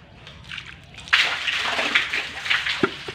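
Water is poured and fills a vessel with a close, continuous splashing gush that starts abruptly after a quiet moment and carries on with a few sharp knocks near the end.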